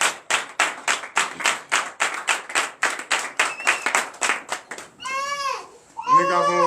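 Worshippers at a night deliverance and prophecy church service clap in a brisk, even rhythm, loud and near, then break into high ululating cheers and voices.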